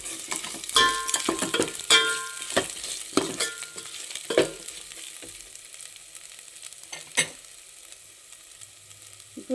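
Ginger garlic paste sautéing in a pan for paneer biryani, with crackling sizzle and bursts of stirring scrapes early on that thin out to a quieter fry with a few sharp spatula taps.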